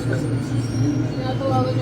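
LRT train at Marikina Station on a station platform, a steady low rumble and hum of rail traffic filling the background under constant chatter from passengers nearby.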